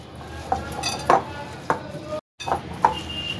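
Prawn lollipop batter bound with bread being mixed by hand or spoon in a bowl, a few soft slaps and knocks against the bowl close up, briefly cut by a short silence.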